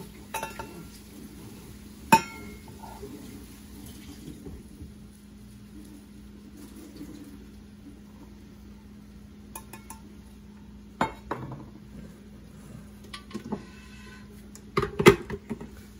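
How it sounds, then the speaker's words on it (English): A milk and flour mixture for English muffin bread is stirred in a bowl, a quiet, steady scraping with occasional soft clinks of utensil against the bowl over a low room hum. "And we're going to blend this well."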